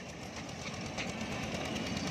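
A train runs past at a rail museum, a faint, steady rumble of wheels and carriages heard from a distance without voices.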